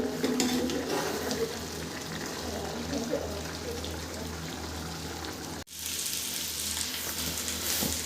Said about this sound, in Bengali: তো এখন আমি ডাকনাটা তুলে আবার একটু নেড়ে দেবো